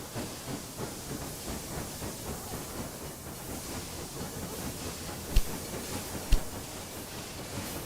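A train running in the Railway Empire 2 video game gives a steady, hissing rumble with a continuous rolling clatter. Two short sharp clicks stand out near the end, and no one speaks.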